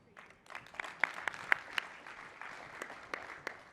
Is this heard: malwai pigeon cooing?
no